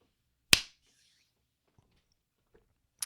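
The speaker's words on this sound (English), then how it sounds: "Oh, yes, we should clap." A single sharp hand clap rings out cleanly in a quiet room, followed by near silence with a few faint clicks and the start of a second clap at the very end.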